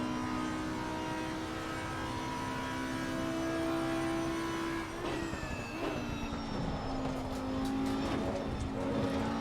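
The Audi R8 GT3 Evo II race car in Assetto Corsa Competizione at the Nurburgring holds a steady, moderately loud engine drone, then shifts pitch and revs through a chicane with slight tire noise.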